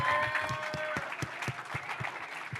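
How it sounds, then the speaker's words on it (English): An audience at a Sing Sing prison performance event applauds for the photographers, speakers and organizers, with steady clapping and a few louder claps standing out over the crowd. "give them a big round of applause"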